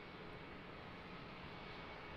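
A steady, distant jet engine roar comes from an airliner taxiing at Charlotte Douglas International Airport. It is faint, broad and unbroken, with no voices.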